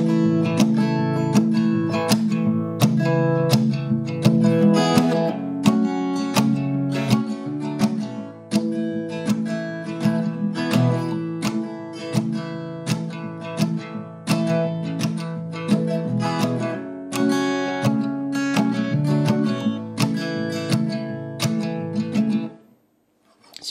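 Acoustic guitar strumming and picking the second verse of a song, steady rhythmic chords with bright string attacks played close and alone for over twenty seconds, ending in a brief pause.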